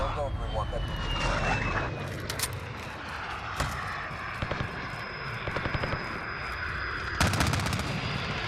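Close air support aircraft arrive in Call of Duty Modern Warfare, a steady engine roar with a descending whine, scattered sharp gunfire bursts, and radio voices talking over it.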